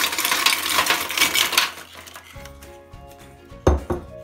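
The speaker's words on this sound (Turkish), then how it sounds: "Bir fırın tepsisinin içerisine yumurta kabuklarımı döküyorum." Eggshells poured into a baking tray in a dense rattling clatter for the first couple of seconds, followed by a few sparse clinks and one sharper knock near the end.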